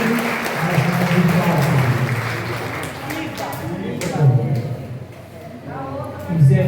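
A crowd after a Catholic Mass for the blessing of Saint Rita chapels bursts into applause, scattered hand claps in a lively room with voices mingling among the clapping.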